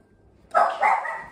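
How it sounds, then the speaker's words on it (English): Dogs bark twice in quick succession, sharp and fairly close, after a moment of near silence, with no talking. "sorry about the dogs"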